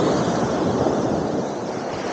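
Ocean waves washing onto Desaru beach in Johor, Malaysia, a loud, steady roar of surf heard close, with some wind on the microphone and no speech.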